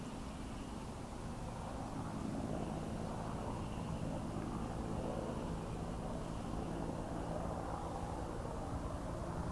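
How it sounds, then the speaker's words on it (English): A helicopter circles over the Space Shuttle Atlantis move along State Road 3 near the Kennedy Space Center Visitor Complex, heard as a faint, distant, steady rotor drone through broad outdoor noise with no talk. "You can hear the helicopter flying around"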